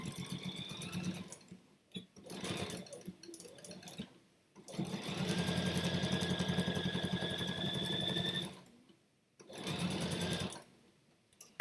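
A sewing machine stitches across the bottom of folded fabric in several runs. The fast mechanical whirring of each run starts and stops with short pauses between, and the longest steady run falls in the middle.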